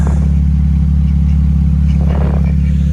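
Exhaust noise from an open resonator on a 2013 Chrysler Town and Country, a steady loud low drone with rhythmic puttering throughout, alone with no talk.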